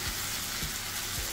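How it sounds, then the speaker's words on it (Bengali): Shrimp frying in a pan at a home kitchen, a steady dense sizzle throughout with a few soft low stirring bumps, close and continuous with no talking. "লাল করে ভেজে নিই"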